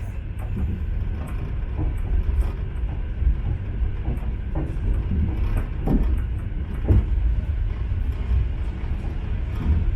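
A passenger train pulls into Zima station in Siberia, with a steady low rumble of rolling railcars, occasional clanks and squeals of wheels on the track, and no voices.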